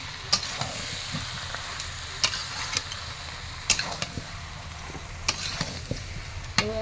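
Young jackfruit frying in a pan with a little oil: a steady low sizzle with scattered sharp clicks and scrapes of stirring, close and alone without talk.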